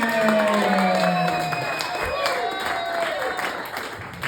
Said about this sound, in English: Please, everybody, round of applause.